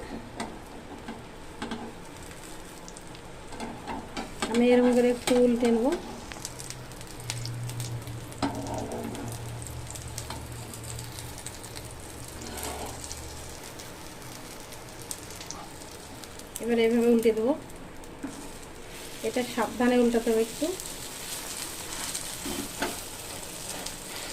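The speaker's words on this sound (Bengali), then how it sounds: "এবার আমি ডিমগুলাটা ঢেলে দেবো" Beaten eggs sizzle and fry in oil in a frying pan, a faint, steady crackle running throughout, with a few brief bursts of background voices.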